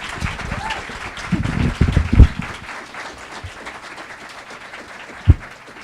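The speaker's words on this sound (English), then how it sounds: "let's give a round of applause for this wonderful panel" Audience applause after a conference panel at a school literature conference, a broad burst of clapping swelling in the middle and then thinning into scattered claps, heard amid room noise.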